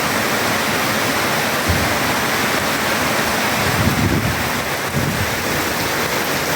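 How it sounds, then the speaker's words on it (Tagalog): Heavy night rain pours onto a flooded car park, a loud, unbroken roar of water with no pauses. "Oh, baha na dito guys sa car park namin. Grabe, lakas ng ulan."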